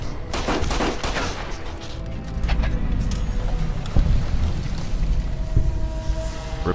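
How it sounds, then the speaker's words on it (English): Gunfire rattles through a Fallout New Vegas hotel fight, with dense overlapping shots, booms and a heavy rumbling mix that swells and thumps throughout. "Shoot him, Eddie. Shoot him."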